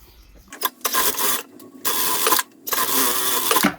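A sewing machine runs a seam along the side of a fabric strap for a cup holder, in two long whirring stitching bursts with brief pauses between them.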